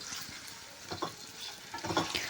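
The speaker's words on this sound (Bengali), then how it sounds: "আলু আর মটরশুঁটিটা ভেজে নিচ্ছি" Potatoes and peas sizzle in a frying pan while being stirred, a faint steady crackle broken by a few scraping stirs, with no talking.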